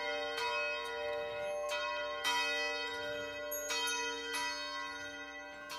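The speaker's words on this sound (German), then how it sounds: "Immer am 6 Uhr fängt die Glocken an zu läuten." Church bells of a village church tower peal continuously at six in the morning, with a rich, loud, ringing tone and repeated strikes layered over a lingering hum, with no voices.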